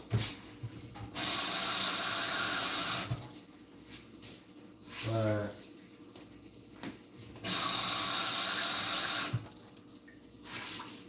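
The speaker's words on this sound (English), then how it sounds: "I need 6 cups of water." Kitchen tap water running into a measuring cup in two loud steady bursts of a few seconds each, with quiet pauses, short clinks and a brief voice between them.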